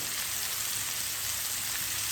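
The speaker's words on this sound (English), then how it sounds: "And I will be frying each ingredient around 2 minutes." Vegetable ingredients for a vegetarian paella frying in a pan over medium heat, giving a steady, dense sizzle with fine crackle that holds an even level throughout, with no talking.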